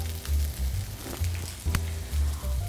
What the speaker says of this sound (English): Hear that sizzle, that's nice.